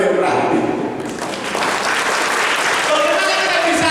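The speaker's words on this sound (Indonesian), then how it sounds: "Tepuk tangan untuk yang terakhir." A congregation claps during a sermon, a broad continuous burst of applause filling the room, with voices mixed in beneath the clapping throughout.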